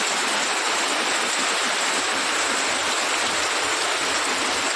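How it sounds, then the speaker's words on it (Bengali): Heavy rain falling outside a house during a downpour, with water pooling on the ground. A steady, dense broadband hiss runs unbroken from start to finish with no voices. "এত বৃষ্টি পড়ছে বাইরে"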